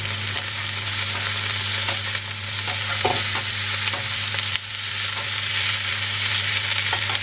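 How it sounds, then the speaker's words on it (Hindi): Thinly sliced potatoes fry in hot oil in a pan, giving a loud, constant close sizzle under a steady low hum, with faint stirring sounds and no speech. "अब मैं थोड़ा सा आलू फ्राई करूँगी।"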